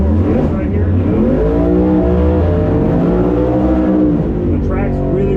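A drag race car in Ultra Street qualifying accelerates hard down the strip, its engine a loud, sustained, close roar climbing steadily in pitch throughout, with no speech over it.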